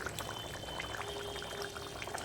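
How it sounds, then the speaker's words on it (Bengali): Ghee is poured into simmering fish head curry, giving a soft, steady bubbling and sizzling wash with faint trickling, quiet and continuous. "এর সময় আমি দিয়ে দিচ্ছি 4 চামচের হাফ চামচ ঘি।"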